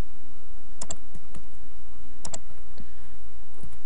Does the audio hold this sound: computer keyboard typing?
yes